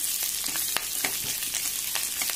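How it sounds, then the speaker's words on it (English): Fresh drumstick leaves fry steadily in a pan with a continuous crackling sizzle and scattered sharper pops, close and even throughout, as part of cooking a mild spicy sambar with vegetables. "I'm going to put this fresh drumstick leaves, and I'm going to fry this till it's completely dry."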